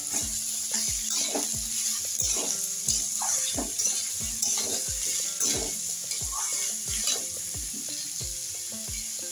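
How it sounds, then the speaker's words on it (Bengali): Potatoes stirred in a hot pan for egg aloo bhurji: a continuous sizzle broken by repeated rhythmic scrapes and knocks of a spatula against the pan, close and clear, with no voices. "আমি আলুটা দিয়ে দিয়েছি, এবার আলুটা নাড়াচাড়া করবো"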